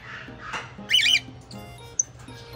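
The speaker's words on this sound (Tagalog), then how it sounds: "Hopefully maparami natin itong lovebird natin kay Ilocano." A lovebird lets out a loud, harsh squawk in a short burst, followed a moment later by a single sharp chirp, close by amid soft background rustling and no speech.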